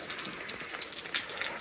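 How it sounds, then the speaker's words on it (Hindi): Heavy rain falling outside in the mountains, a steady dense hiss of drops with faint scattered taps, even and fairly quiet throughout. "बाहर का मौसम देखो, बारिश हो गई"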